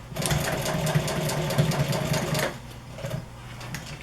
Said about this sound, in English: we're going to go ahead and continue and finish off this other side of the French stitch